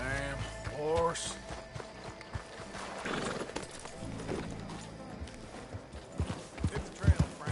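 Horse hooves clip-clop in a rhythmic gallop in the Red Dead Redemption 2 video game, joined by a horse's whinny early on, with voices talking over the hoofbeats.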